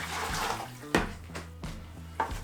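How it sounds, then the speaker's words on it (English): Water is poured into a bucket for an integrally colored concrete countertop mix, sloshing and splashing in short, close bursts over a few seconds. "I am to put a quart of water in first"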